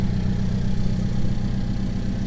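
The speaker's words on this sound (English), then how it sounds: "we got a cold start on the Alfa" A bone-stock Alfa Romeo with its stock exhaust idles after a cold start, heard from about six feet away as a steady, loud, low rumbling drone with an even pulsing beat and no voices.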